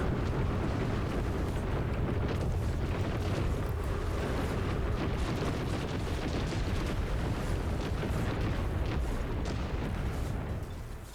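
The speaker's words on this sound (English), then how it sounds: "It's probably gonna blow up a lot midair, but I don't even care." Cluster bomb going off in midair in the video game Trailmakers, a dense, continuous rumble of overlapping blasts and crackling bursts, loud and sustained throughout with no pauses.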